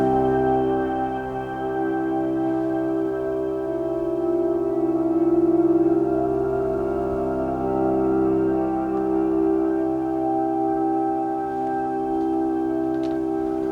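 Pigments software synth patch built from scratch for an ambient sound, processed with echo and shimmer effects: a sustained, layered tonal pad with steady drones and gently swelling, reverberant shimmer, playing alone with no voices.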